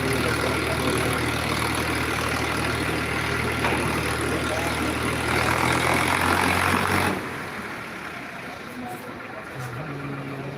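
Three generators run outdoors on a street in Egmore, Chennai, giving a continuous engine drone that drops in level partway through, with talking audible over the hum.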